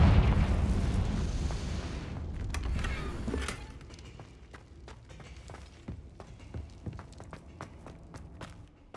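A Confringo fire spell explodes in the video game Hogwarts Legacy: a loud, rumbling boom opens, then decays over about three seconds. Scattered footsteps and small clicks follow.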